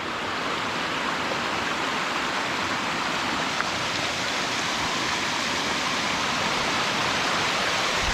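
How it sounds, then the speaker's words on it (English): Pacific Crest Falls, a double waterfall on a creek along the Pacific Crest Trail near Herman Creek, roars as a loud, steady broadband rush of falling water, close by and continuous with no talk. "Oh, so there's the Pacific Crest Falls. It's a double fall."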